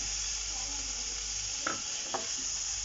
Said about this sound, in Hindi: और हाफ कप कंडेंस्ड मिल्क को हम इसमें डाल के अच्छे से मिक्स कर लेंगे